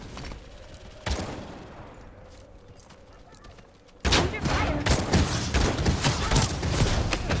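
In the video game Realm Royale, a turret fires in Rapid bursts. After a quieter opening with one sharp report, loud dense volleys break out and continue to the end.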